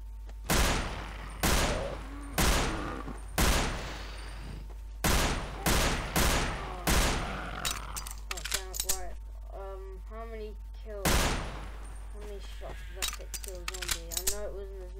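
Pistol gunfire from an HK USP in Garry's Mod with the M9k weapons mod: about nine sharp, loud single shots fired in an uneven series, with short tonal mechanical clicks and chirps between them, near and clear with no talk.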